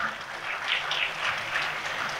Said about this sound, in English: Let's have a huge round of applause for Sri Mukesh Bhatt